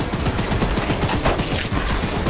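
Rapid continuous gunfire from a mounted gun in the horror game Choo Choo Charles, a loud dense rattle of shots throughout with no pause.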